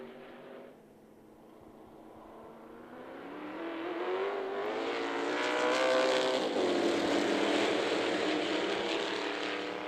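Open-wheel modified race cars roar around Myrtle Beach Speedway, a loud sustained engine drone that swells and holds as the pack passes close, with rising revving tones and no voices.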